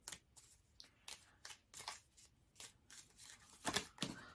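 Oracle cards being shuffled and pulled from the deck in short papery riffles and flicks, close and fairly quiet, a quick burst of several rustles repeating with brief pauses between them.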